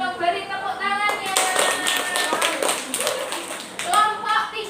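Students clap together in a classroom counselling session, a dense burst of hand claps that rises, holds for a few seconds and fades, with voices speaking just before and after.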